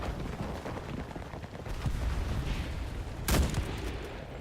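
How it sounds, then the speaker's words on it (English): Rainbow Six Siege gameplay with a sudden sharp explosion bursting out briefly near the end, over a constant low rumble of battle noise. "I saw a huge explosion."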